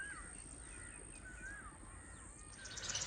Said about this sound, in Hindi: अपने कोयल के गुनगुनाने की आवाज़ें आ रही हैं इस साइड पे